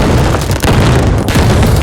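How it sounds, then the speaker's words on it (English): Loud, continuous rumbling booms with bursts of crackle, one explosion rolling into the next without pause, dense and chaotic. "You have this moment here with the explosions."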